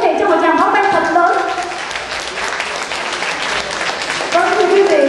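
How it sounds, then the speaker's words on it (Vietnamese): A concert audience gives a big round of applause, sustained dense clapping filling the hall, with voices rising over it at the start and end. "Một lần nữa xin quý vị cho một tràng pháo tay thật lớn."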